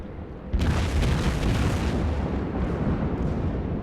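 Battleship main guns firing in the World of Warships game aboard USS Wyoming: a loud broadside boom that erupts suddenly and rolls on as a sustained, heavy rumble, alone, with no talk over it.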